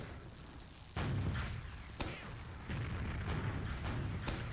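Booming blasts of soldier bombs in a video game, several thuds breaking over a steady rumbling mix of in-game noise, with one sharper crack partway through.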